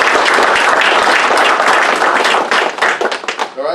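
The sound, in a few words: clapping for departing officer at council meeting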